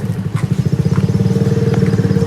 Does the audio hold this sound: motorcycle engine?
yes